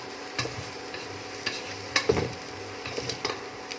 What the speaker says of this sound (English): now I'm going to stir it